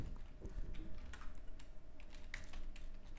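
Typing on a computer keyboard while entering a taxpayer ID into an online tax registry form, a steady run of close, quick key clicks with irregular rhythm and no talking.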